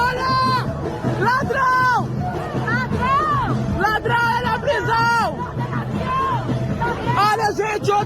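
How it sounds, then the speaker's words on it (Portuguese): A large crowd boos and shouts against Lula at a public event in France, a dense, continuous roar of many voices with rising and falling yells throughout. "E aonde tem o povo de verdade, tem vaias para o Lula."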